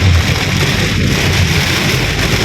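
Heavy rain pours down during a storm in Bangkok, a loud, dense, steady hiss with a low rumbling undertone and no pauses, close and continuous throughout.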